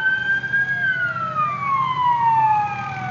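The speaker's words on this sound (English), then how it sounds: "So the fire engine will be right behind him." A fire engine siren wails in long, slowly falling tones as it arrives at a burning RV, loud and steady throughout with traffic rumble beneath.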